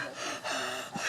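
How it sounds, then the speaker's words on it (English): Close, quiet breathing in perfect darkness in a radio drama, two soft drawn breaths with a brief gasp-like catch near the end and no voices. "In perfect darkness, the sound of breathing is"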